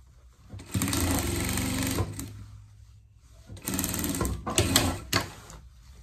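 A sewing machine stitching a pet princess pajama in two separate bursts of rapid mechanical whirring, the second slightly choppier, close and clear with quiet pauses around them.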